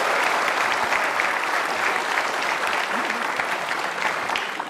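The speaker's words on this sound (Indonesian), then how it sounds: "Sekali lagi dong tepuk tangannya." A large studio audience applauds steadily and loudly for a world-class city mayor, dense continuous clapping filling the whole stretch without a break.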